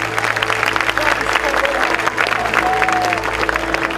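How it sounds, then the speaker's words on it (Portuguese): A church congregation applauds in dense, steady clapping that fills the room, with a sustained tone and voices mixed beneath the applause. "todos damos a Jesus uma linda salva de palmas"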